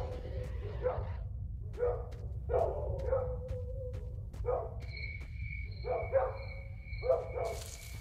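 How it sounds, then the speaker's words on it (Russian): A dog barking with a hollow echo in S.T.A.L.K.E.R. Shadow of Chernobyl. Repeated short barks come at irregular intervals over a low ambient hum, with a thin whistling tone appearing near the end. "собака как будто в унитаз гавкает"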